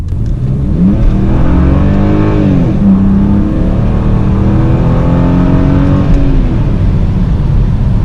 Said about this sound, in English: Okay, now we can accelerate. Here we go, foot down.